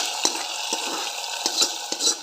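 A hot tempering of red chilli, shallots and curry leaves is poured into sambar, with a soft sizzle and splash, several light clinks and scrapes of utensils against the pot.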